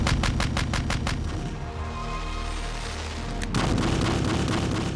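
A fort's coastal cannon firing during a daily drill, heard as a rapid string of sharp reports followed by a heavy booming rumble, loud and continuous throughout.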